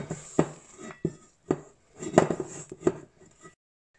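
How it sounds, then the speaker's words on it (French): A spatula scrapes and knocks against a bowl while macaron batter is folded with Italian meringue, irregular clinks and soft taps coming close and alone, then silence. "Et on va mélanger grossièrement pour relâcher un petit peu la pâte."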